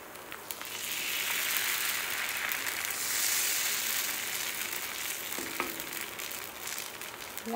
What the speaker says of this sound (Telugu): ఇలా దోశ వేసుకోవాలి